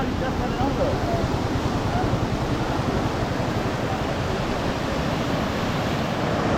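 Sea waves surging and breaking on the beach at Mandarmani, a continuous loud roaring wash with wind buffeting the microphone, close by, with voices mixed in.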